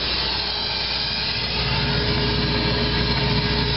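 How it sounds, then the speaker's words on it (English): A soil vapor extraction blower runs with a loud, steady, broadband roar and low mechanical hum, continuous and close with no pauses. "The SVE blower running at about 80 inches of water."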